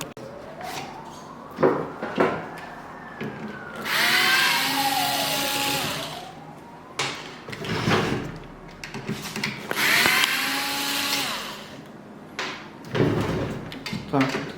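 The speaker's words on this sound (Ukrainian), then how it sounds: "Викручуємо монтажні шурупи" Short whirring bursts of a power screwdriver removing mounting screws from a climate unit's fan, rising and falling in pitch, alternating with clicks, handling noises and a few quiet pauses, close by.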